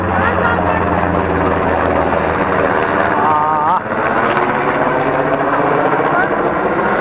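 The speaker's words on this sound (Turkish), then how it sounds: "Helikopter tam tepemizden geçiyor." A water-dropping firefighting helicopter passes right overhead on a mountain camp in Turkey, its loud continuous rotor roar filling the scene while a person briefly calls out.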